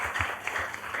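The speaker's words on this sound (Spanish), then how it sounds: "Un aplauso realmente fuerte para ustedes que lo hacen de maravilla." An audience claps steadily at an international seminar on gender equity in mining. The applause is close and sustained, with brief dense bursts and no voices over it.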